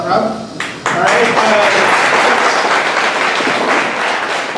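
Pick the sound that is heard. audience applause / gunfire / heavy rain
audience applause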